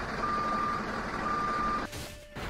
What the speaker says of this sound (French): On dirait un camion 30 tonnes